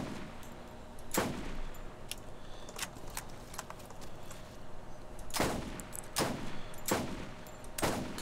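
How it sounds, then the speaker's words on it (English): Gunfire in Borderlands hits an explosive barrel: sharp, separate shots crack out at irregular intervals, a single one early, then a quick run of four near the end, over a quiet background hum. "I'm shooting the explosive barrel"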